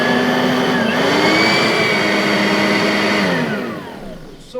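Close, loud motor whine from a Simplicity Freedom vacuum on its low speed setting, a steady high-pitched drone over rushing air that rises briefly, then winds down and fades toward the end, with no voices.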